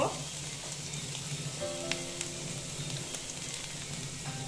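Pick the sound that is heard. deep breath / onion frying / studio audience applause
onion frying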